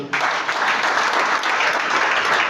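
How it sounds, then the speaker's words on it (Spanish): A church congregation at a Spanish-language conference claps in dense, loud applause that holds steady throughout without a break. "Denle un fuerte aplauso al Señor."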